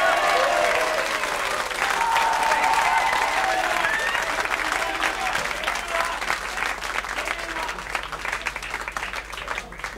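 An audience at a live blues concert in a small club applauds a guitarist, loud sustained clapping with scattered whistles and cheers, easing slightly in volume as it goes on.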